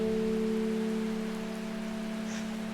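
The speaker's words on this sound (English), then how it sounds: "There's rain sounds" Steady rain patters on a surface, a continuous hiss with a low sustained hum running underneath at an even level.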